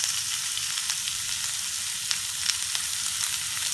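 Onions frying in a pan for cashew fish curry, a close, steady crackling sizzle with occasional sharp pops and light stirring, no voices over it.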